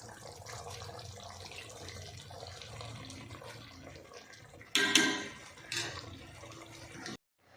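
Par-cooked rice for chicken dum biryani strained through a sieve, a continuous soft trickle of draining water punctuated by two sharp, loud splashing pours near the end before the sound cuts off.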